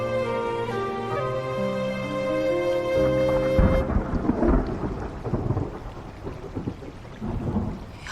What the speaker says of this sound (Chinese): 要下雨了。